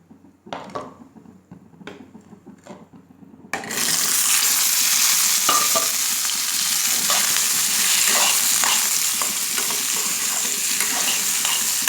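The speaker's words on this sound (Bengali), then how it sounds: "আমার ফোড়নটা হয়ে গিয়েছে। আমি এখন সবগুলা সবজি ঢেলে দিচ্ছি।" A few soft taps in a quiet kitchen, then vegetables are tipped into hot tempering in a pan and erupt into a loud, sustained close sizzle that keeps frying steadily, with faint stirring scrapes.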